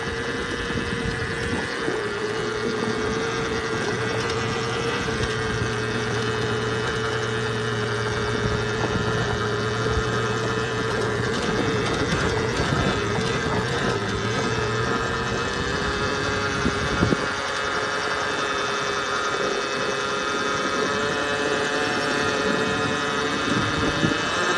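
A 2022 Volcon Grunt electric off-road motorcycle climbs a steep hill at low throttle, giving a steady whining drone with a faint tonal hum and broadband wind and tire noise running continuously, with no talking.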